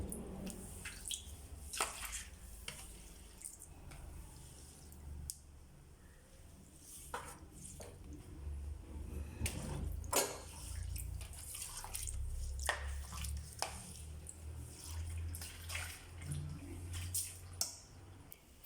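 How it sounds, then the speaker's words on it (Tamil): After a surface has been scrubbed, water is pushed out and wiped away: scattered wet drips, squishes and soft clicks come irregularly over a quiet background, with no voices. "தண்ணி ஃபுல்லாக வெளியில் தள்ளிட்டு துடைக்க வேண்டியதுதான்."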